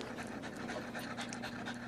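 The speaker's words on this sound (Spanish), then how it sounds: "Te voy a robar este perrito." A small dog pants rapidly and steadily at close range, a quick rhythmic huffing that continues without pause, faint and alone.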